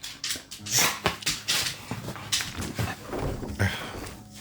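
A dog in the survival video game 7 Days to Die makes a run of short yips and scuffling noises, mixed with clattery thumps and clicks and scattered close bursts, all fairly loud.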